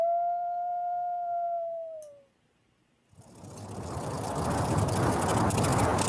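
A single long, steady howl with a faint falling tail fades out, followed by a brief silence and then a rising wash of broadband noise.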